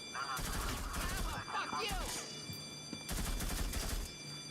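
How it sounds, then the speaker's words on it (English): Bursts of automatic machine-gun fire from a video game, clustered in short rapid volleys separated by brief pauses, loud and close with game effects in between. "So the machine gun's pretty good."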